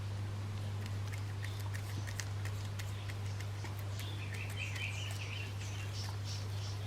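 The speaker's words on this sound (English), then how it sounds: "Can you hear the birds?" Faint, scattered bird chirps in the distance over a steady low electrical hum.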